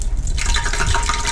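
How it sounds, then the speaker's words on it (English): Water drips off fingers into a pan of hot frying grease, bursting into a steady, close crackling sizzle that fills the moment, with no talking. "She sizzles up like that."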